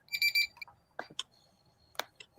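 A timer alarm goes off in short bright beeping bursts, followed by a few sharp clicks and taps, close and clear with no talking.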